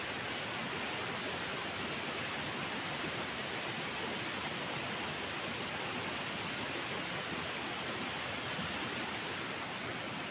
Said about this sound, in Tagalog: Sapa guys, nasa ibaba.